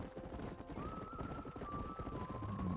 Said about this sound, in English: Herd of horses.